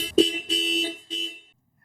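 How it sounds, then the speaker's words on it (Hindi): The horn of a Tata Tiago EV electric car sounds three times, short beeps with a buzzy, high tone, close by, then silence. "हॉर्न इसका कैसा है।"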